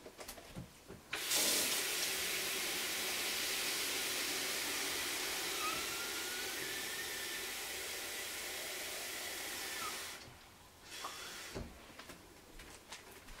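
Tap water rushing steadily into a small bottle, a continuous hiss that starts abruptly and runs for about nine seconds, pitch creeping upward as it fills, followed by clinks and handling sounds once the tap shuts off.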